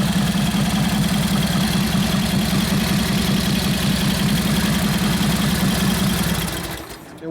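A 1941 Harley-Davidson WL 45 flathead stroker V-twin idles steadily and close by with a lumpy, loping low throb, running slightly lean, then cuts out abruptly near the end.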